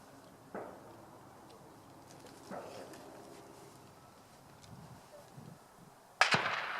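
Gunfire at a shooting range: two faint, distant shots a couple of seconds apart, then a much louder, nearer shot with a brief ringing tail.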